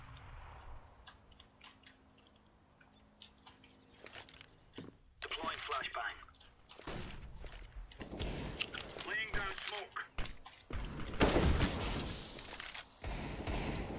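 Bursts of gunfire in the game Counter-Strike, several sharp clustered shots and noisy crackles rising in intensity, mixed with other game effects and a voice talking.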